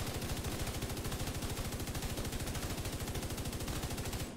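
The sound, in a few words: MG5 machine gun firing in video game The Division 2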